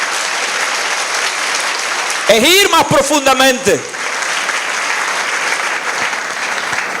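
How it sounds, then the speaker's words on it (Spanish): Church congregation applauding the Lord in a broad, sustained round of clapping that runs through the clip, with a preacher's voice briefly speaking over it partway through. "Dale un aplauso al Señor"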